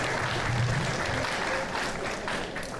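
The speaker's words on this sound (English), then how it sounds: "A round of applause." Audience applause for a school principal at a family information night at a career center, a dense, continuous crowd clap at moderate volume with faint voices mixed in.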